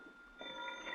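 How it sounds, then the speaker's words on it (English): A telephone rings in a hotel room in an old radio drama, heard as a faint, steady electronic ring that swells partway through the short moment. "the phone was ringing in my hotel room when I got there."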